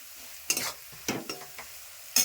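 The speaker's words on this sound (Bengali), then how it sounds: "আলু এখন ভাজা ভাজা হবে" Potatoes sizzle in a pan with spices, a few sharp stirring scrapes and spatula clatters breaking through a low background crackle, close and fairly quiet.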